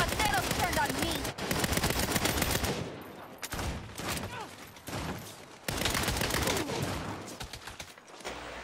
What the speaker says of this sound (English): I'm shooting people outside.